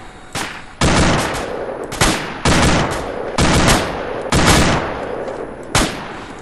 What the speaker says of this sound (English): Taking fire to the right. Contact to the right.